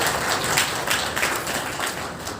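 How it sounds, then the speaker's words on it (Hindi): A crowd claps loudly and steadily as the chief guest lights the ceremonial lamp at the opening of a multipurpose hall, a dense patter of many hands that lasts throughout. "इनके लिए जोरदार ताली चाहिए भी।"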